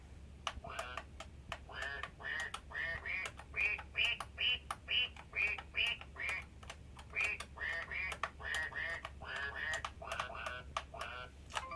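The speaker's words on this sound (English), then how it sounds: "Like this one's got" A cheap entry-level toy instrument plays its duck sound effect, a long run of electronic quacks in quick rhythmic bursts, loud and close with a few clicks between them.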